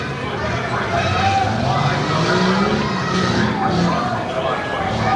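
A stock tough truck races through an infield turn at a Bloomsburg, Pennsylvania event, its engine roaring steadily loud and rising and falling with the turn, while an announcer talks throughout.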